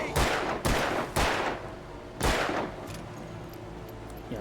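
Gunfire in the horror video game Alan Wake: four loud, sharp shots in quick succession, each ringing out with a decaying tail, over a steady low hum.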